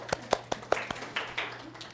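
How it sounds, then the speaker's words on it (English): A small group claps briefly at a dementia care training session, a handful of distinct hand claps spaced out over two seconds, fairly faint and sparse rather than a full ovation. "Let's give her a little round of applause."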